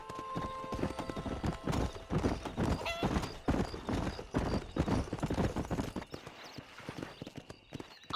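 Horse hooves clip-clop in a fast gallop in Red Dead Redemption, close and rhythmic, with a whinny and faint background noise.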